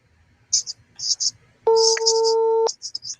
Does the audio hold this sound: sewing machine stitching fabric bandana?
no